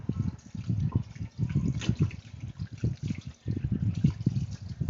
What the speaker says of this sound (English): You can hear me rinse the water again because I've got to get this stuff off.